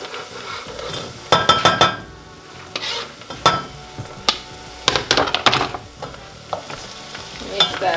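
Garlic and chopped tomato frying in a pan while being stirred, with a steady sizzle under repeated scraping and clinking strokes of a utensil against the pan, loud bursts clustered through the middle.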